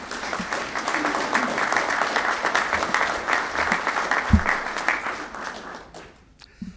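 Audience at a police promotion and badge ceremony in Lower Merion Township gives a full, sustained round of applause that fades out in the last second.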